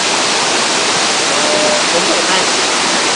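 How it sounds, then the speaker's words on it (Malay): Waterfall at Jeram Perdik in Ulu Perdik, a six-tier cascade, roaring loud and close as a steady, dense wash of falling water with no let-up. "sampai ke air terjun Jeram Perdak Tujuan ya"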